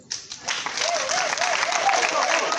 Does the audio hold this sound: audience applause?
yes